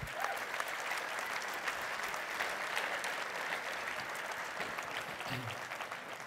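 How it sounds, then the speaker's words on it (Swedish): An audience at a vocational skills championship award ceremony applauds, continuous even clapping from many hands at moderate distance, unbroken from start to finish. "Vi ger dem också en applåd."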